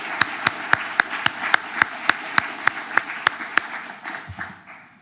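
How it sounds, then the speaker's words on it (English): A room full of attendees at an annual organizational event gives a speaker a round of applause, dense steady clapping with one person's rhythmic claps standing out before the ovation fades out. "Now we can give her a round of applause."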